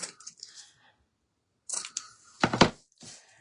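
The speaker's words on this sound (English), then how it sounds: "I'm going to trim these just a little bit" Scissors snip the ends of a ribbon bow on a wooden shabby chic pumpkin craft, a few crisp close cuts in two short bursts separated by a pause.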